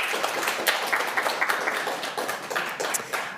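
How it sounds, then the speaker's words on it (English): A crowd claps for a finalist at a live startup pitch show, fairly soft and steady with individual sharp claps standing out throughout. "Let's give a big round of applause to SEPCO"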